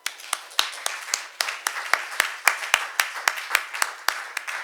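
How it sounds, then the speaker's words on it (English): A small conference audience claps for a panel of speakers at a legal competition forum, sparse individual hand claps forming a brief, moderately close round of applause with no talking. "please join me in giving them applause."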